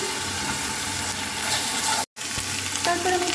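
Onion sizzles steadily in hot oil with onion paste and turmeric stirred in, a dense close frying hiss that drops out for a split second midway before resuming.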